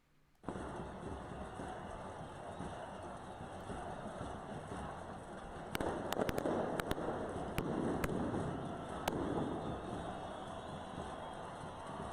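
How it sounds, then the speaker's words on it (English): Fireworks or firecrackers go off at a street protest in Chile, several sharp bangs in a quick cluster over a steady crowd and engine din, and the noise swells afterward. "We hear loud bangs, but then we hear people cheering, so probably it's like fireworks or"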